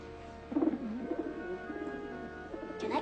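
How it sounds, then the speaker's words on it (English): A pigeon cooing softly in a city, a few low rolling coos spread across the moment, fairly close and moderately quiet, with faint background hum. "A pigeon."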